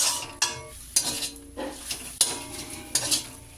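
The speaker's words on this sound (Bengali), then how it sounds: "এভাবে আমি কচুগুলো নাড়াচাড়া করে থাকবো" Taro is stirred in a cooking pan, with a utensil scraping and clinking against the metal in irregular strokes over a faint low sizzle, close up and without talk.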